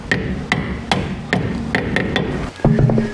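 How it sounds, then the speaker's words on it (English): Sharp metallic hammer taps knock a dust cap back onto the front wheel hub of a B-Series Ford Falcon, five or six evenly spaced strikes, close and loud, followed by a brief clatter at the end. "take your dust cap, whack it back on"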